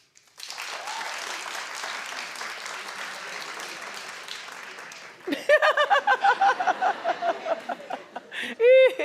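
A talk-show studio audience breaks into steady, sustained clapping for several seconds, then it stops and a voice speaks in short, lively bursts with a brief laugh.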